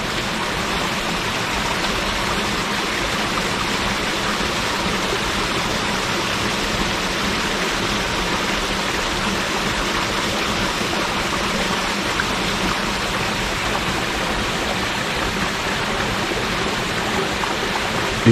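A waterfall near a campsite at night roars in a steady, loud, unbroken rush of water from start to finish.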